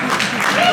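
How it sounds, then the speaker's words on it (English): Applause from the audience at a live concert at Deep Dish Swift, a short steady burst of clapping with a voice faintly over it. "Big round of applause."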